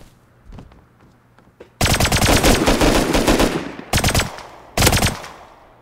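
Loud automatic gunfire in the survival video game Rust, a long sustained burst of rapid shots followed by two shorter bursts, after a quieter stretch of scattered faint pops.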